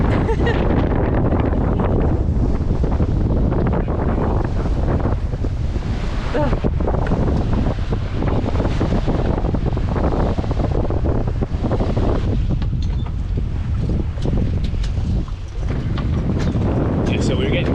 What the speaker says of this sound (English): so we're getting 20 knot gusts